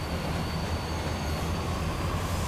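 An enormous train in the Killer is Dead video game rumbles past, a loud, steady roar of wheels and rail noise with a faint high squeal running through it, no voices.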